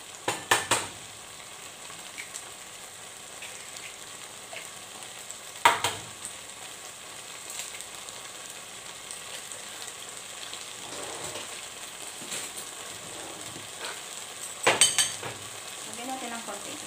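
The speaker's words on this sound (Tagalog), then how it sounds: "habang niluluto-luto natin siya sa sibuyas, kamatis at saka bawang" Sardines and egg fry with onion, tomato and garlic in a pan, a steady sizzle running throughout, broken by a few sharp scrapes and clatters of stirring near the start, middle and end.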